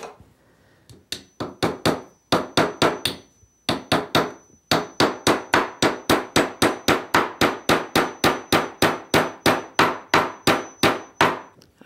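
Steel nails are hammered into wooden beekeeping equipment at the edge of a table outdoors, a long run of sharp, evenly paced close blows with a short pause early on, loud and without talk.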